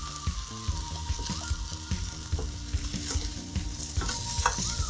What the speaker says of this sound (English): I'm really gonna stir and make sure this is all broken up and covered in all that lovely vegetable tastiness